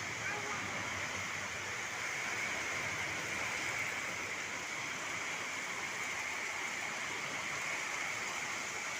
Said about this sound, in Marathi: अरे अरे तो घरात पाऊस येतोय